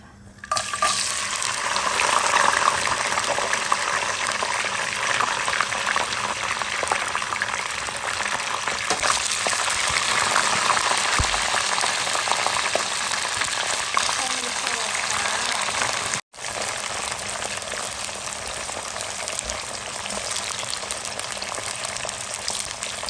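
French fries frying in a frying pan, a steady broadband sizzle that runs loud and unbroken for the whole clip, apart from a momentary dropout near the end.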